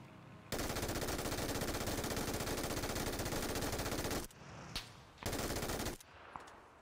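Sustained automatic gunfire in the video game PUBG, a loud rapid burst lasting several seconds, followed by a few shorter bursts and single shots nearby.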